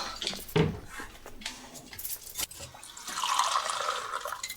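Water poured or running from a tap into a glass or sink, a steady liquid rush building in the last second and a half, with a few clinks and small knocks before it, fairly close in a quiet domestic room.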